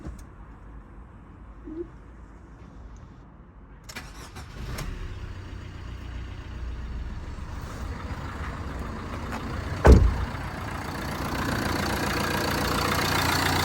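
A Peugeot Partner or Fiat Doblo diesel engine is cranked and then idles steadily at close range, a loud, even rumble with a brief sharp clunk partway through and no talking.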